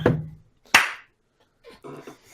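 A few sharp hand claps ring out close to the mic during a casual tabletop role-playing podcast session, spaced apart with short quiet gaps between them and a faint trailing slap at the end.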